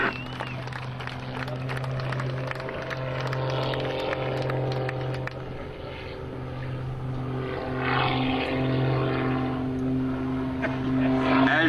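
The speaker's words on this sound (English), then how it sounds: "Sean's going to come back to Show Center, attempting to turn this aircraft into a helicopter" Sean Tucker's aerobatic stunt plane flies at the 2003 Dayton airshow as it attempts a hovering Harrier-style manoeuvre, producing a loud, continuous propeller-engine drone that swells and shifts in pitch throughout.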